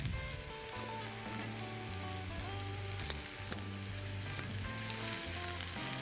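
Carrots and other vegetables cook on low heat in a pan, giving off a constant, even sizzle like light rain, with a few faint clicks of utensils.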